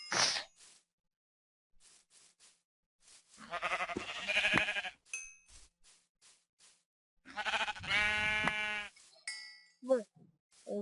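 Sheep bleating in a farming survival video game, two drawn-out quavering bleats separated by silence, with faint clicks, short sounds and brief talk between them.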